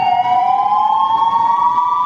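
A loud ambulance siren wails close by with a steady, slowly rising tone at a fire safety demonstration.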